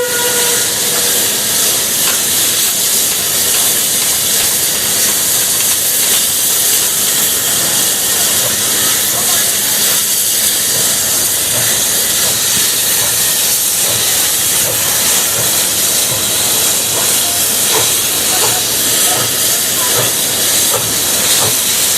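A Chinese industrial steam locomotive hisses steam, a loud continuous broadband roar that stays steady throughout with no breaks, close by and heard alone.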